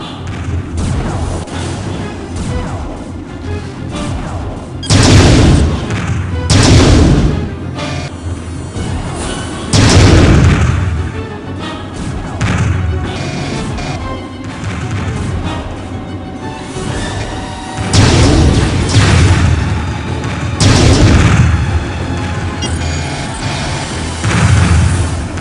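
A planted charge detonates in the Starlancer space-combat game, heavy booming blasts and thuds rolling out several times over a sustained engine-like rumble, loud and close throughout.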